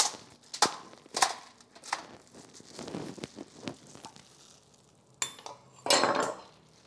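Whole carrots set into the bottom of a metal roasting pan for a Thanksgiving turkey, a scatter of irregular clunks and clinks, with a louder rattle near the end.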